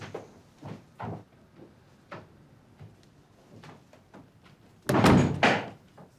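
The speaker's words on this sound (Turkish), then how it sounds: "Cezmi, sen de kapat kapıyı." A door being closed in a tavern: a few soft knocks and shuffles, then one loud, close thudding bang near the end.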